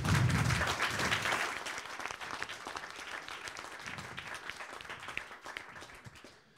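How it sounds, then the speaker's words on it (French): Audience applauding at a conference on vocational education, a dense burst of clapping that starts strong and gradually thins and fades. "on peut les applaudir"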